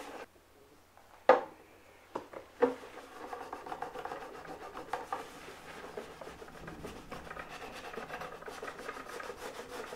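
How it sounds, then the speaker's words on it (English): A violin is rubbed with a polishing cloth, giving soft continuous scrubbing and rasping strokes close up after a couple of sharp knocks at the start. "I'm really going to rub it round and really clean it with this polishing cloth."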